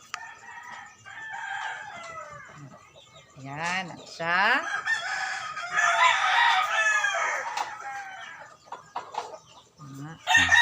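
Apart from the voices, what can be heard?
chicken clucking and rooster crowing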